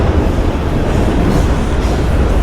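A long train passes as a loud, continuous low rumble and rolling roar. The sound stays steady from start to finish, with no voices over it.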